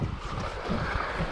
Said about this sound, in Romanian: din nou bate vântul, dar bate mai tare ca data trecută